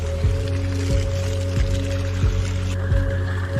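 Hot spring water pours and gurgles steadily into a hole in a forest floor, a continuous near bubbling flow with soft splashy pulses and no talking.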